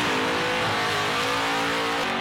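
Race car doing celebratory donuts after a victory at a Grand Prix event, engine revving steadily with tire squeal and skidding, heard at a moderate distance with crowd ambience beneath.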